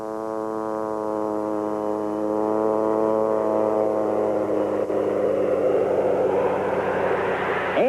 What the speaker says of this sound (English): the landing is the ultimate test for a float plane pilot